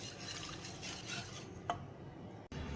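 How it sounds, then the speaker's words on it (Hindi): Besan and water batter for khandvi is stirred in a bowl, giving a quiet, continuous swishing and scraping with a light clink of utensil against the vessel midway, close and soft. "इसी तरह से चला लेंगे, मिक्स कर लेंगे ताकि कोई भी घोल इसमें कहते हैं वो इसमें कोई गुठली ना रहे।"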